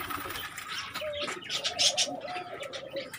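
Pet pigeons perched up high coo softly in a backyard loft, a few rolling coos close by among faint chirps and outdoor ambience.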